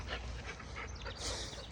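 A dog pants and snuffles close by, with rapid breathy bursts and a brief whimpering edge, quiet and continuous.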